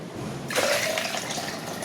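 Young coconut water pours steadily from the fruit into a container that is nearly full, a continuous splashing trickle at close range. It starts abruptly and keeps flowing without pause.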